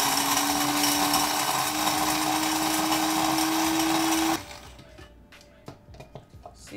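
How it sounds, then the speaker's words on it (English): An electric grinder whirs loudly for about four seconds as it grinds coffee for a homemade latte, then cuts off, leaving faint taps and clicks. "So I'm going to grind it some more and make it more fine."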